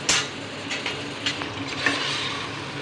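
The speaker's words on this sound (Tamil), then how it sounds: "நல்லா மசிகிற வரைக்கும் கரண்டியால் கிண்டி கிண்டி வதக்கணும்." Tomatoes sizzle in a pan as they are sautéed for mutton biryani, with a ladle scraping and stirring in several distinct strokes over the steady frying hiss, close and alone.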